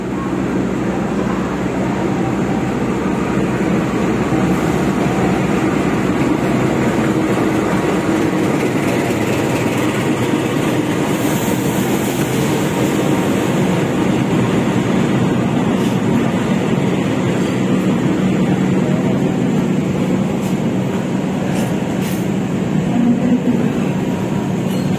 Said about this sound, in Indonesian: kereta api Argo Dwi Bangka sudah masuk